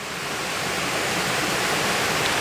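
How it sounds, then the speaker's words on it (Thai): Koi in a pond splash the water, producing a loud, close, continuous rush of churning and spraying water with no talking. "ปลาดี่น้ำอีกแล้ว"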